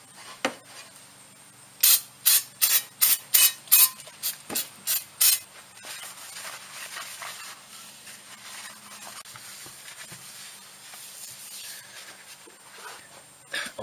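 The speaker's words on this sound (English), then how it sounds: "And now we're gonna clean this again with brake cleaner." Brake cleaner is sprayed onto an F-150 differential housing cover in about eight sharp, rhythmic hissing bursts close up, followed by quieter rubbing and handling sounds.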